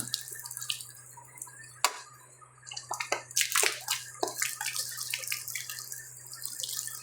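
Water sprays and splashes onto a Nissan C22 Vanette pickup body during a leak test in uneven, sloshing bursts, close by, over a constant low hum and occasional drips.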